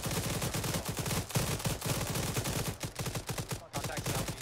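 Dense automatic gunfire and rapid rifle shots crackle in an Arma 3 combined-arms firefight, with bursts overlapping almost continuously, near and loud, and a brief gap before the shooting resumes.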